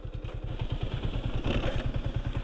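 A motorcycle rides along a narrow dirt footpath through a hillside village, its engine thrumming in a steady, close, pulsing rhythm throughout with a faint clatter and no voices.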